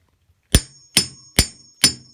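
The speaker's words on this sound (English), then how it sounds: "take a hammer and just lightly tap them to the back of the socket" Four sharp metallic hammer taps driving a pulley onto a Ford tractor generator shaft, at an even, unhurried pace, each ringing briefly with a bright clang, close up with silence between.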